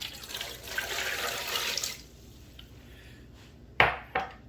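Two cups of water poured into an Instant Pot with duck eggs on the tray, a steady close splashing pour that stops, followed by a couple of sharp knocks of the pot or cup.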